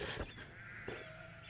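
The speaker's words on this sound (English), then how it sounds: "This ewe had her lambs early." A ewe and her week-old lambs bleat in a short burst of quiet, close calls on a farm, two or three brief bleats against a soft background.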